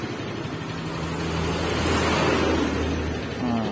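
Yamaha Mio Sporty scooter fitted with a Green carburetor during a test ride, its engine a steady droning hum with rising tonal whine, mixed with wind rush and road noise throughout.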